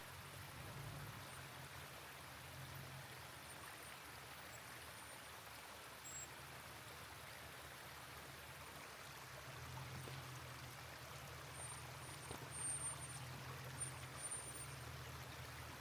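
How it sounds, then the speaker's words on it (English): Creek water at an off-road trail crossing rushes in a soft, continuous wash, faint and steady with a low rumble beneath, and no one talks over it. "this water crossing looks pretty gnarly here"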